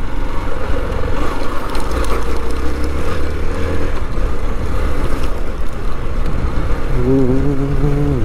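A Hero Xpulse 200 motorcycle rides off-road with a loud, close, continuous engine drone, rising in a rev near the end.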